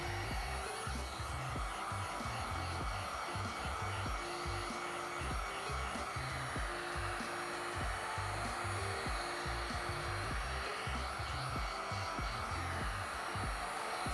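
Heat gun shrinking protective film on a Tesla Model 3 windshield, a steady loud blower whoosh with a constant motor hum and a faint rhythmic fluttering pattern throughout, no speech.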